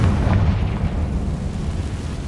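The Confringo explosive spell blasts in Hogwarts Legacy, a heavy, booming burst with a deep rumbling body that fades slowly across a couple of seconds, with no talk.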